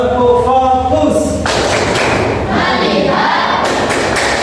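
A group in a classroom claps in a warm-up ice-breaking game: a leader's voice is followed by two loud bursts of collective hand clapping and crowd noise.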